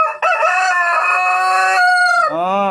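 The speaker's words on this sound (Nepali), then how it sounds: "हाम्रो भालेले यहाँ बासिरहेको छ" A pet rooster gives one long, loud crow from close by, a sustained cock-a-doodle-doo that holds steady and then bends downward at the end, with no other sounds behind it.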